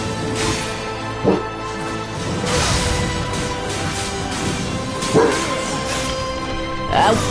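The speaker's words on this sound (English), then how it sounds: "I don't know what Pen's barking at." A dog in the video game Darksiders 2 barking in short bursts, several separate yips and barks spaced seconds apart over a steady game soundscape.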